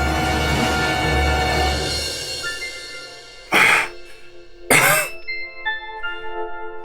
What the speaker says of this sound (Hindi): मेरे से खांसी हो रही है।